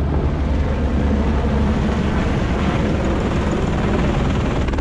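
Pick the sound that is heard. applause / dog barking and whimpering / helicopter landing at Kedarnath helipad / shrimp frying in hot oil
helicopter landing at Kedarnath helipad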